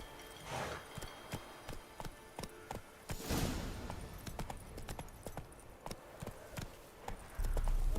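Roach the horse clip-clopping in The Witcher 3, a brisk steady run of close, sharp hoofbeats at a trotting rhythm, with a brief whooshing swell partway through and no voices.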